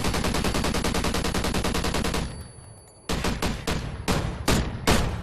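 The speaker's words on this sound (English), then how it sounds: "I didn't think he'd just keep shooting." Rapid automatic gunfire in a video game, two long bursts of loud, evenly spaced shots separated by a brief pause, then several shorter volleys.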